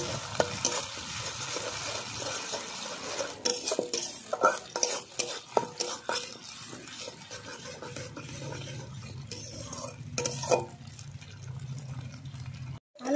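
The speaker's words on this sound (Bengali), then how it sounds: "এবার দিয়ে দেবো আদা বাটা আর কাঁচা লঙ্কা বাটা একই সঙ্গে দিয়ে দিলাম দুটো। ভালো করে কষিয়ে নেব।" Fried onions sauté with ginger paste and green chili paste in a pan for egg and masoor dal: a soft, steady sizzle broken by repeated scraping and clinking of a spatula stirring against the metal.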